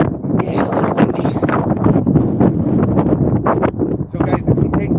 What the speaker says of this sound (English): Really windy. Yeah, a little windy.